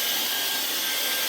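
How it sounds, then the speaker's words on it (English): A Shark cordless vacuum cleaner runs steadily with a broad, even whooshing hiss, loud and close, with no pauses or voices. "cordless vacuum cleaner"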